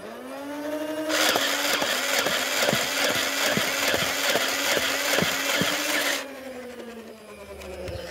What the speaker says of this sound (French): on commence ce test de vélocité avec deux chargeurs de 10 en rafale